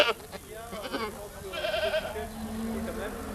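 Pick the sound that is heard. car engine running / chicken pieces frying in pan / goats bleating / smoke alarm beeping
goats bleating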